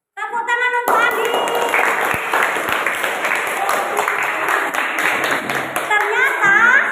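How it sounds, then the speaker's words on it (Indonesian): A class of students breaks into loud, dense applause that continues steadily for several seconds. A brief voice is heard just before the clapping starts. "Tepuk tangan untuk Andi."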